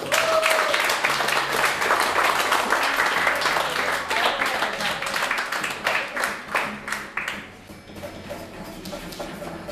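A room full of people claps steadily for a member of a weight-loss group, dense close applause that thins into scattered individual claps toward the end.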